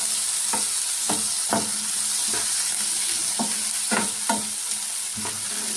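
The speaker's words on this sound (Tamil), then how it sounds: "ஃப்ரெஷ்ஷான உரிச்ச பச்சை பட்டாணி, இதையும் இதோட சேர்த்துக்கலாம். நல்லா மிக்ஸ் பண்ணிக்குவோம்" Fresh shelled green peas stirred into frying masala in a pan, a constant sizzle broken by about eight distinct spoon scrapes and knocks at an uneven pace.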